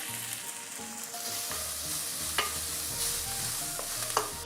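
Sliced onion sizzles in hot oil with curry leaves for a Kerala pork and koorka dish, a steady close frying hiss broken by a few light stirring clinks and scrapes, with no talk.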